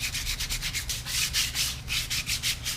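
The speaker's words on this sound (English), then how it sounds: "So I'm just using an 800 grit wet dry sandpaper just to try to get" Wheel from a Project 300ex being wet-sanded by hand with 800 grit wet/dry sandpaper, a quick, even rhythm of raspy back-and-forth strokes, close and fairly quiet with no talking.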